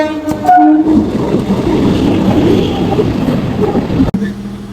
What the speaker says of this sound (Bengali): ট্রেন ঢুকছে দেখতে পাচ্ছ